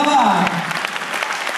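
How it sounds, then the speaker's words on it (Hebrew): An audience at a dance studio's final recital claps loudly and steadily, dense applause filling the whole moment close by, with a voice speaking over it at the start. "מחיאות כפיים לעצמכם"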